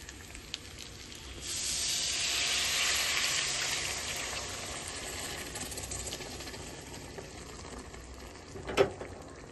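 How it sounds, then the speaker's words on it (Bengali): Boiled mung dal poured into a pan of frying fish heads makes a broad sizzling hiss. It swells after a quiet start, holds for a few seconds, then fades, and a short sharp clatter comes near the end. "তো এবার সেদ্ধ ডালটা মাছের মধ্যে আমি ঢেলে দেবো আস্তে আস্তে।"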